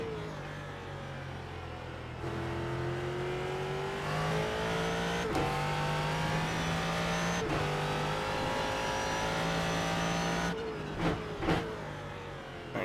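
An iRacing race car engine during the 24 Hours of Daytona endurance race howls steadily at high revs through shifts and throttle changes, close and loud, with sharp downshift blips near the end.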